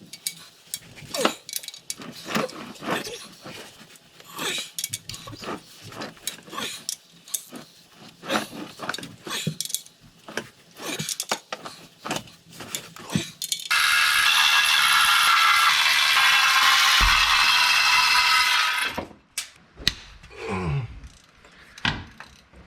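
Wrench ratcheting as a single bolt is backed out of the adapter plate on a 12-valve Cummins diesel, a run of close clicks and metallic clatter followed by a steady high whir for several seconds, then a few sharp knocks.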